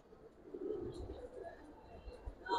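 Soft, low pigeon cooing, faint and intermittent against a quiet background.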